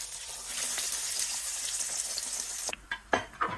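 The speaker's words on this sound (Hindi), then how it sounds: "तो अभी ये भी फ्राई करते हैं। ये देखो, मैंने ऐसे जल्दी से ऑयल के अंदर डाल देना।" Chicken puffs dropped into hot oil deep-fry with a loud, dense, continuous sizzle that cuts off abruptly near the end, followed by a few separate bursts of bubbling and splashing.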